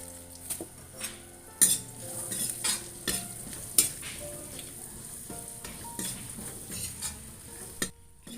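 Food frying and being stirred in a pan with cumin, with steady sizzling under repeated clinks and scrapes of a utensil against the cookware, close by and without talk.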